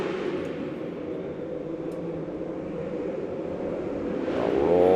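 Dirt-track race cars at the Tulsa Shootout roar steadily as they get back on the throttle, engines growing louder near the end of the stretch.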